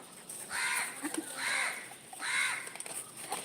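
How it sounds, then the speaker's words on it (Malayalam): Three loud, harsh crow caws spaced about a second apart, close by, with faint background noise between them. "കാക്ക"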